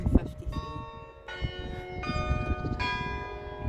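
At the old part of Dunfermline Abbey, a church bell strikes the hour in a few resonant, ringing tolls that overlap and decay. People talk nearby throughout.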